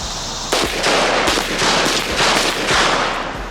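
A Micro Draco pistol fires a rapid string of loud, close gunshots, about five blasts in quick succession with echoing tails between them.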